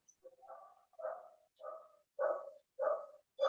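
A dog barks six times in a steady run of short, mid-pitched barks, fairly clear and close, with no one talking over it.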